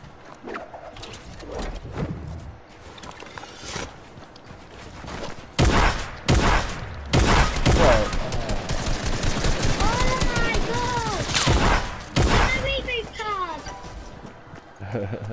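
Video game gunfire erupts in rapid bursts and volleys, some loud and close, while several people talk excitedly over the shooting.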